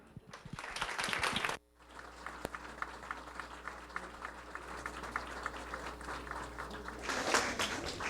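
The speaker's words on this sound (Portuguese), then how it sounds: "E agora vamos receber com aplauso Benilton Bezerra" Audience applause welcoming a speaker at a lecture evening on psychoanalysis and Buddhism, loud steady clapping from a crowd that cuts off, then continues as scattered lighter claps before swelling again.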